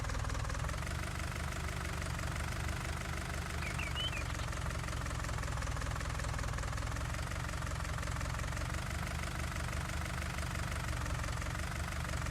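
In Farming Simulator 19, a small tractor engine idles with an even, knocking diesel chug, steady and close from start to finish, no talk over it.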